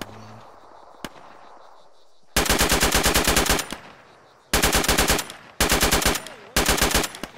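Loud bursts of rapid automatic gunfire in a military video game, four long volleys separated by short pauses, close and harsh, after a single earlier shot.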